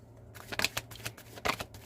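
Tarot cards shuffled and drawn from a deck in a quiet room, a few soft riffling and flicking bursts close up with brief pauses between, no voice.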